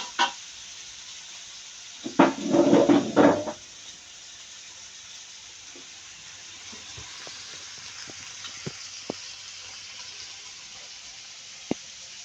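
Two eggs stir-frying for fried rice in a pan: a loud burst of sizzling and scraping for about a second and a half, then a quieter steady hiss with a few sharp clinks of a utensil against the pan.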